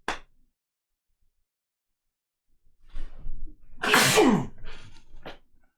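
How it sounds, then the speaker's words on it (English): A short breathy pause builds into one loud, close sneeze, followed by a couple of quick trailing breaths. "I'm gonna sneeze."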